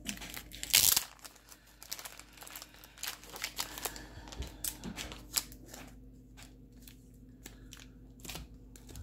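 A mail envelope of trading cards being torn open and handled, with crinkling paper, sharp rips and rustling, close and intermittent, including one loud tear near the start.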